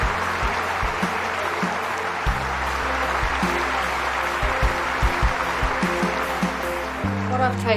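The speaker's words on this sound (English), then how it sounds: "Let's give them both a round of applause" An audience applauds award winners at the Friends for Life 2013 ceremony, a dense, sustained clapping that fills the room throughout, with background music or tones under it.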